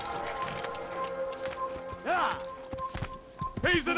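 Horse hooves clip-clopping in the video game Assassin's Creed, with whinnies and neighs rising over layered game sounds and music, several short bursts near the end.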